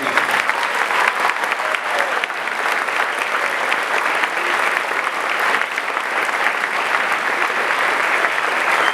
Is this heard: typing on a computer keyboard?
no